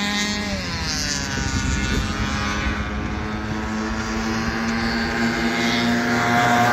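A steady Babetta moped's small two-stroke engine drones on continuously during a race, its pitch holding level with slight wavering, fairly close and loud throughout.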